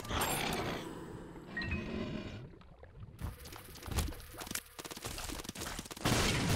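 Explosions in The Binding of Isaac: Repentance, with a run of blasts and broadband bursts over busy game noise. Several sharper bangs land near the middle of the stretch, and no voice is heard.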